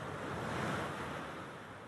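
Ocean waves wash onto a beach in a soft, steady surf roar with some wind, continuous and fairly faint, with no voices.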